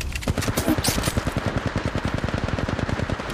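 Rapid automatic gunfire from an Apex Legends ranked match, a loud, steady stream of evenly spaced shots that runs for several seconds with no talk over it.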